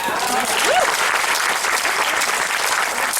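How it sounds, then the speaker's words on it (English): Crowd at the Epcot Flower & Garden Festival applauding the Disney gardeners, a dense, steady round of clapping with a brief whistle or whoop rising above it early on. "a really big round of applause for all those wonderful Disney gardeners"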